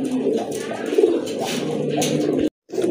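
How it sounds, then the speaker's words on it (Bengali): Large blue shartin pigeons cooing up close, a continuous rolling murmur of low coos, fairly loud and steady before a short gap and more cooing. "এটা হচ্ছে আপনার ব্লু শার্টিন কবুতর, অনেক বড় সাইজের কবুতর"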